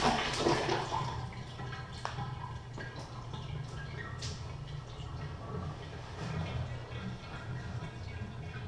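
Hot water running from a faucet under a house sink, a steady low rushing stream with scattered drips and small clatters, heard at moderate distance throughout.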